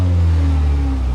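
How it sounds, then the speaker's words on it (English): A Mercedes GLA 45 engine holds a loud, steady, droning rev up close, with a deep hum that barely changes over one brief burst. "it does sound like the engine's making a lot of noise as well"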